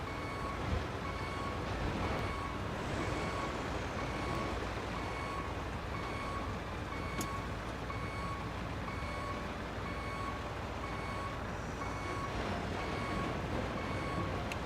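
A stump grinder in the RoadCraft video game backs up with a steady train of reversing beeps over a constant engine drone, evenly spaced and unbroken throughout with no talking.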